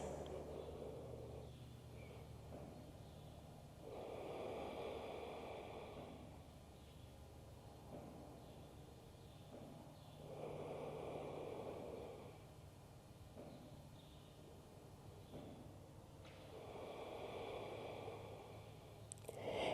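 Slow, deep breathing during a yoga stretching class for backbends. Three or four long, soft inhale-exhale cycles come at an even pace, each several seconds long, over a quiet room with no talk.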